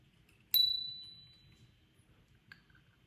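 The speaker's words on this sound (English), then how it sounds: "It's like a little bell" A small bell brought back from Denmark rings with one bright, clear strike that rings out and fades slowly, followed by a second, softer ding about two seconds later, close and isolated against a quiet background.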